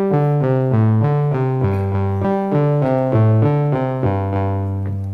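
A Q119 step sequencer set up as three rows of eight steps plays a sequence from its first row: a steady, loud synth pattern of repeating stepped pitches with a regular even rhythm, heard alone.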